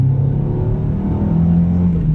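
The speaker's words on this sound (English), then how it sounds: "I don't know if y'all can hear the engine." A steady, loud car engine drone with a low rumbling hum, holding constant with slight shifts in pitch throughout.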